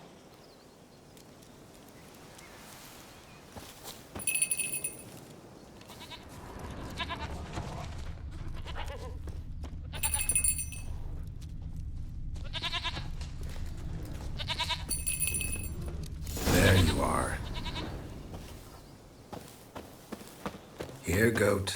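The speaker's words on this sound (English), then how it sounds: "Here, goat." A goat in The Witcher 3 bleats several times in short wavering calls among footsteps and ambient game sounds, with someone speaking briefly and a sharp burst of noise near the end.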